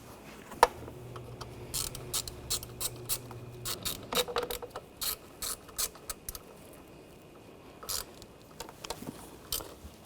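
A ratchet tightens a small ground bolt on a Honda Pilot V6 engine during timing belt and water pump work, its quiet clicking coming in short, repeated bursts with pauses between them.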